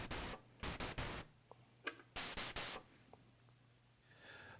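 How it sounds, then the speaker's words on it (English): An analog synthesizer's noise generator puts out white noise in several abrupt, loud broadband bursts that start and stop sharply, with quieter gaps and faint ticks between them. "White noise is just a combination of every frequency being played back at random."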